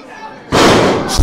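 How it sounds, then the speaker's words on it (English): A professional wrestler is body-slammed onto the ring mat during a tag team match, a loud broadband thud that hits about halfway through and rings on under crowd noise, following quieter commentary-level background. "Slamming Kurt Bale down to the mat."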